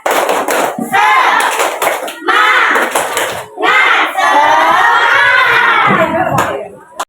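Schoolchildren in a primary classroom perform a rhythmic spirit clap, loud group clapping bursts alternating with shouted chants, crowd-like and close.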